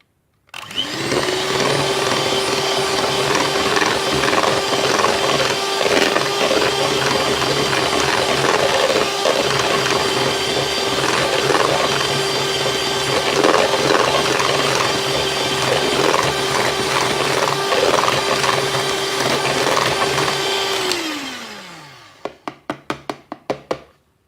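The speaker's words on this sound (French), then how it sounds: "Et je vais continuer à fouetter." An electric mixer whips cream with icing sugar in one steady, loud, close whir with a constant motor tone and rattling beaters, running about twenty seconds before winding down and stopping with a few light knocks.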